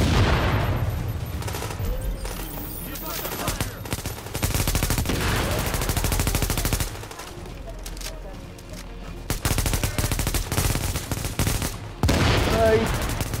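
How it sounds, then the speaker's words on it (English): Grenades blasting and rapid gunfire in a video game, dense overlapping explosions and bursts of shots filling the clip, loud and continuous with a few brief lulls. "The grenades are going off in like half a second!"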